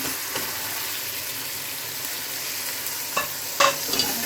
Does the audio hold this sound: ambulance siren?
no